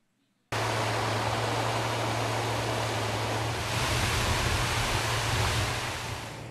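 Waterfall pouring into a pond at a coal mine water treatment site, a steady broadband rush that starts abruptly after a brief silence and stays loud and close throughout.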